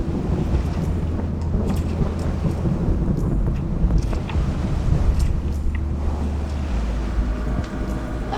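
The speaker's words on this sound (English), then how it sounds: "amongst all this crazy thunder and everything" Low thunder rolls during a storm at sea, heard as a sustained deep rumble mixed with wind buffeting the microphone and a steady low hum from the boat.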